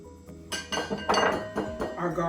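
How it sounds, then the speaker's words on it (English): Mayonnaise is mixed into salad dressing in a bowl, with a utensil clinking and tapping against the bowl in quick, close, uneven strokes while a voice talks over it. "we're going to mix in our mayonnaise"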